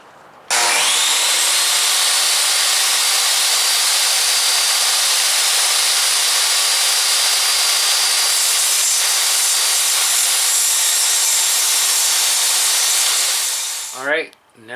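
A power saw cuts through wood trim for a teardrop trailer, starting abruptly and whining loud and continuous for about thirteen seconds before winding down at the end.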